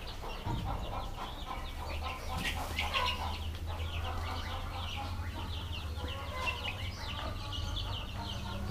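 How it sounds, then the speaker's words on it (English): Baby chicks on an organic farm in Mexico, a dense chorus of high peeping cheeps, fairly close and continuous, with occasional rustling and faint background noise. "Look at the little baby chicks."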